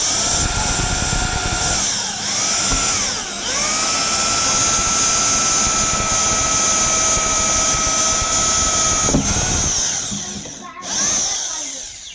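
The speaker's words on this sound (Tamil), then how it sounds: "ட்ரில் பண்ணும்போது நல்லா ஸ்ட்ரைட்டாக வச்சு ட்ரில் பண்ணுங்கள்" A power drill whines loudly and continuously as it drills into a 1000-liter water tank, its pitch dipping briefly a few times as it bites into the material, then spinning down near the end.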